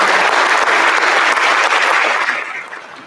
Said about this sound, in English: Now let's give both groups one more round of applause.